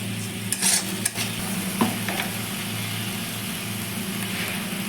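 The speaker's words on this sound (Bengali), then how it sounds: "এবার আমি এটাকে ভালো করে কষিয়ে নিই" Spice paste with squash sautéing in a pan, a loud continuous sizzle with a few scraping stirs early on, steady and close throughout.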